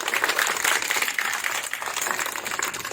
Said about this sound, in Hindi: इनके लिए सब ताली बजाओ एक बार।